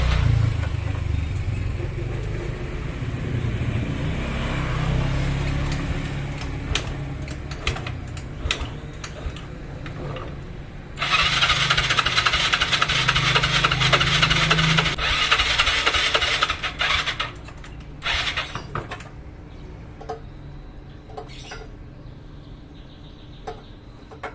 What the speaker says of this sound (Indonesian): motor ini masih ogah hidup